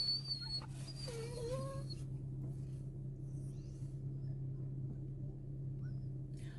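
A dog whimpers in a few thin, high whines near the start, fairly faint over a steady low engine rumble and hum.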